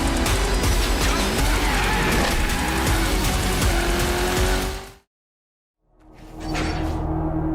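Exotic cars racing in an open-world racing game: a loud, continuous engine roar with revving and whooshing passes, cutting to a brief silence, then returning to a steady engine drone.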